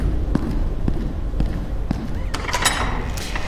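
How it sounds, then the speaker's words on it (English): Footsteps in the dark echolocation game Dark Echo land in an even rhythm of soft, close thumps, followed by a brighter rising swell of sound. "footsteps themselves automatically give off sound waves."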